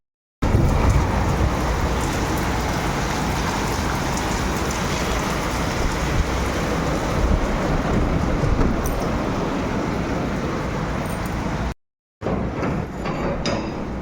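Heavy rain pours in a steady, loud roar, with thunder rumbling beneath it and no voices, cutting out briefly near the end before resuming.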